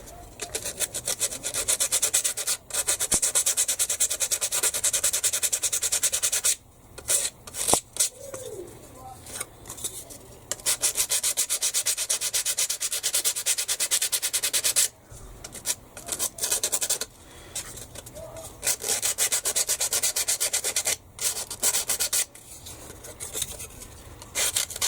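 A wooden Star Wars build is hand sanded with sandpaper in close, rhythmic bursts of rough rubbing strokes broken by short pauses, with faint birdsong in the background.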